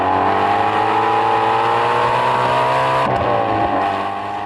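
A 2016 Ford Shelby GT350 with its 5.2-liter V8 revs loud and steady, a rich harmonic engine tone that holds, then dips and shifts near the end.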